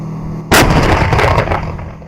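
A tank's main cannon fires once with a sudden loud boom and a long rumbling decay, over a constant background hum.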